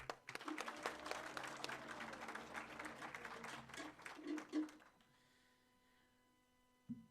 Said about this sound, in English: Let's practice clapping.